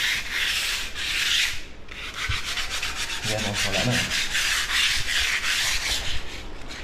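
Sandpaper rubs over skim-coated wall corners in steady, rasping back-and-forth strokes, close and continuous for the whole stretch, with a brief voice partway through.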